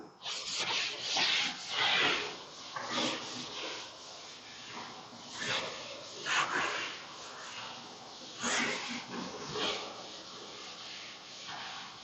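A duster is rubbed over a classroom blackboard to wipe off chalk, producing repeated close scratchy strokes in uneven bursts with short pauses between them.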